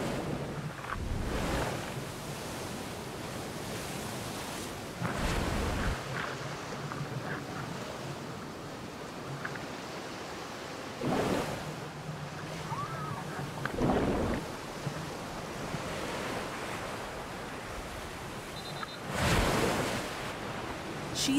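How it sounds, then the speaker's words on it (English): Ocean surf in a breaker zone where a surfer is paddling, a steady near wash of water punctuated by several heavy waves crashing at irregular intervals, with no voices. "She's now stuck in the breakers as a series of waves pummel her."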